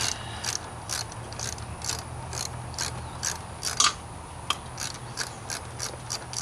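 A socket ratchet snugs a spark plug into a Pontiac G8 V6 engine, with rapid, steady clicking strokes close up and a few sharper metallic knocks partway through. No one talks.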